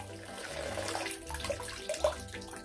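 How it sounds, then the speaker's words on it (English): Water splashes and pours from a toy waterfall bubble shower at a pony bubble bath play, a close, fluctuating trickle with brief tonal squeaks. "Yep, it's a bubble shower."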